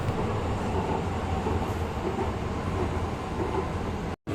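A London train ride to King's College London with a steady, loud rumble of a moving carriage, unbroken for about four seconds and then a brief cut to silence near the end, with no voices.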